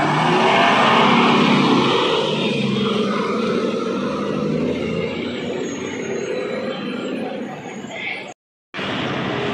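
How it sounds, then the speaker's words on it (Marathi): An MSRTC Lalpari state transport bus on the Kurla–Ahmednagar route via Shirur pulls in with a loud, continuous engine roar that eases slightly, then cuts off abruptly for a moment near the end. "लालपरी आलेले आहे कुर्ला अहमदनगर वाया शिरूर MH20 गाडी 3956"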